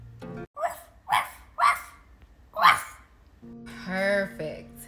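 A person imitates a puppy with a few short, high yipping barks in quick succession, close and clear, followed by a longer whining note.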